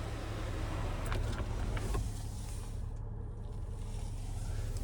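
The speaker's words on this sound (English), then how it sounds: "And then we can slide or tilt the front roof here." A Cadillac CT6 sunroof glides open with a quiet, steady electric motor whir inside the cabin, a smooth continuous hum with a faint click or two near the start.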